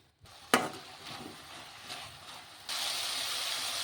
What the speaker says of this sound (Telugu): ఇవి కూడా బాగా మెత్తగా నూనెలోనే మగ్గిపోవాలి